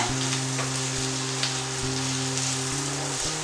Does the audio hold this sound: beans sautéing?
yes